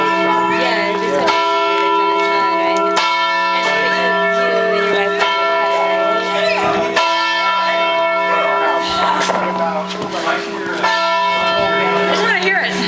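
A church bell rings out at the stroke of midnight on New Year's, its strokes loud and close, each leaving a long humming resonance that overlaps the next, with a few people murmuring faintly underneath.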